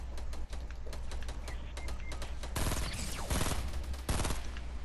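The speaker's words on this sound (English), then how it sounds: "Is that you shooting with your AR or is that the random?" Rapid automatic gunfire from the survival video game Just Survive, including AR rifle fire, crackles in dense bursts, with a loud sustained volley near the middle and another short burst near the end.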